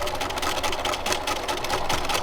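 A sewing machine runs a lapped seam at a quarter inch in contrasting white thread, with a steady, close, rapid mechanical hum and a faint rhythmic needle chatter and no voice over it.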